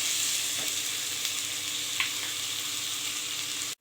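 Steady sizzling and frying of a tempering in a pan for bone soup, a continuous close crackle with a faint stir or clink around the two-second mark and a sharp tap near the end.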